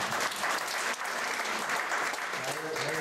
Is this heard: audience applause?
yes